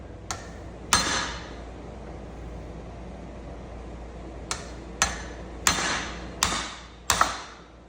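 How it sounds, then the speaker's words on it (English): A hammer strikes a punch to drive out a U-joint cap on the front Dana 44 axle of a 2005 Jeep TJ Rubicon: seven sharp metallic blows, two close together, a pause, then five more in a quick rhythm. "You're going to punch this out until the other one cap comes out"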